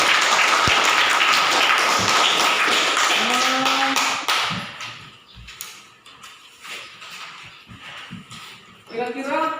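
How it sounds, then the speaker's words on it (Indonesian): Schoolchildren in a classroom clapping together, a loud burst of hand claps that dies away after a few seconds into scattered taps, thumps and children's voices. "Kita tepuk tangan dulu kita semua hari ini."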